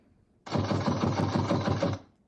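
A rapid burst of repeated gunshots, like automatic fire, lasting about a second and a half, fairly close and loud, with no talking.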